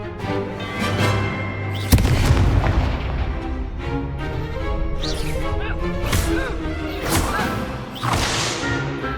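Repeated Confringo spell blasts in Hogwarts Legacy, sharp explosive booms and whip-like cracks firing in quick succession, loud and close over a rumbling game soundtrack.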